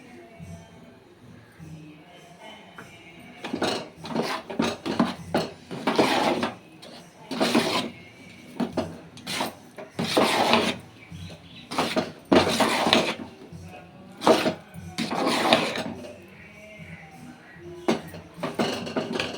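Semolina prasadam cooked with milk and finished with ghee is stirred in a pan, giving repeated scraping and clattering strokes in bursts at an uneven rhythm, close and fairly loud, with quiet gaps between.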